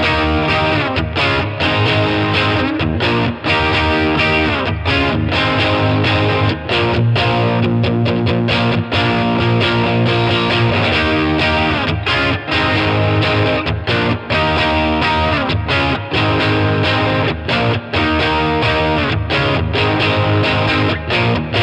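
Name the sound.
electric guitar through Line 6 Catalyst amp crunch channel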